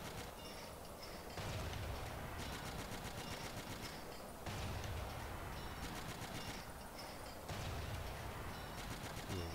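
Bursts of tank machine-gun fire in Battlefield 1942 from a Soviet T-26, rattling in rapid repeated volleys under a constant low engine rumble, loud and close with short pauses between strings of shots.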